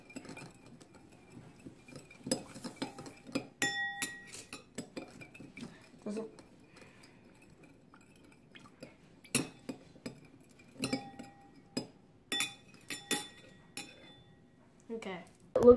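A metal spoon clinks and taps against a glass while stirring sugar into water, with scattered bright chinks and scraping bursts, quiet pauses between them, and soft room noise underneath.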